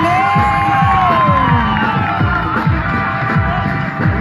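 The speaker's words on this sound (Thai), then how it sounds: "ขอเสียงปรบมือให้กับนักกีฬาหน่อย" Spectators at a women's sack race during a civil defense volunteer day in Pak Tho cheer loudly: a close, continuous wash of crowd noise with children's shrill shouts and whoops rising over it throughout.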